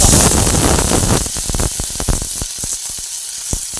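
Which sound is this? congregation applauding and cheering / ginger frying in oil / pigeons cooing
ginger frying in oil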